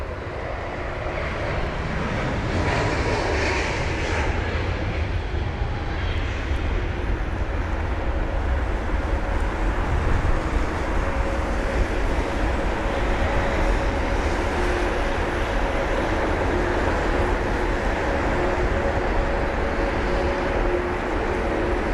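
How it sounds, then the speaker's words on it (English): An Aegean Airbus A321neo departs London Heathrow in heavy rain, its jet engines giving a loud, sustained roaring rush with a faint steady tone, heard close and alone for the whole stretch. "Got the Aegean 321 Neo off to Athens."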